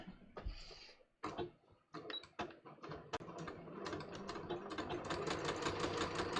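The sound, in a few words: sewing machine sewing through welt pocket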